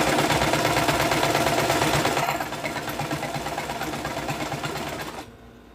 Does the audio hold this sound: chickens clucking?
no